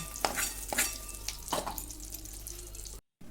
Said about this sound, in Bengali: এবার এই সবজিগুলো ডালিয়ার মধ্যে দিয়ে দেব